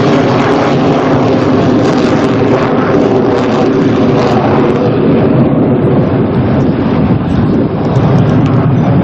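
Bomber aircraft at the Farnborough Airshow 2014, a loud continuous roar of engines with heavy low rumble and wind buffeting, sustained without breaks and no talk.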